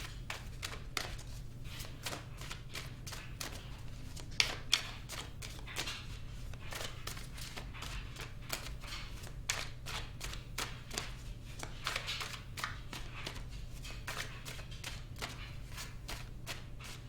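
Tarot cards shuffled continuously, a long steady run of quick riffling clicks and flutters close by, with a low hum underneath and no talking.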